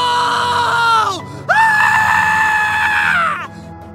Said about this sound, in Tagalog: Sumisigaw siya habang tumatakbo na parang nababaliw.